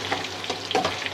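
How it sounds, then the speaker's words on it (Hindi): Mutton karahi frying in oil, a close, steady sizzle and crackle broken by small stirring scrapes and pops. "अब हम इसे थोड़ा सा भूनेंगे"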